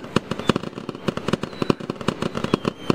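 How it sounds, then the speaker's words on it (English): Rapid string of fireworks launching in the VR game Gorilla Tag, dozens of sharp pops and whooshes firing in quick irregular bursts, fairly loud and continuous with no talking. "this does it for every single firework in the game that's loaded in"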